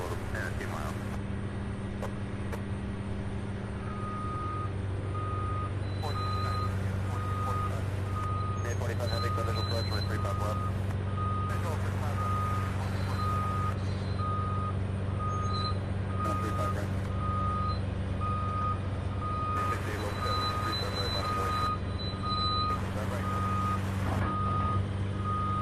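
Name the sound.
reversing beeps of vehicles loading construction equipment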